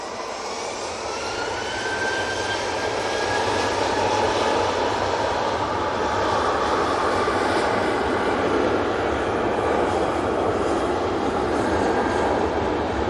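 A TUI jet airliner roars through a full-length takeoff at Manchester Airport, a broad, continuous engine rush holding loud and steady throughout with a faint rising whine.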